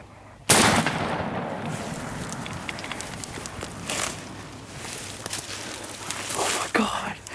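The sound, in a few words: gunshot during youth turkey hunt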